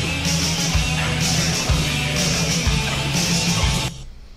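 A heavy metal song in a remixed version plays loud and dense, with distorted guitars and a punchy, prominent snare. It cuts off abruptly near the end.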